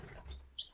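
Canary chicks in a nest, including Raza canaries, give soft brief chirps, ending in one slightly louder high tweet over quiet background noise.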